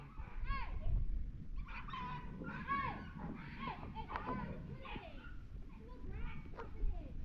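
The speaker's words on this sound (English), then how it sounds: "These puppies are fighting." Puppies growling, yapping and whimpering as they scuffle, close by, with someone talking excitedly over the noise.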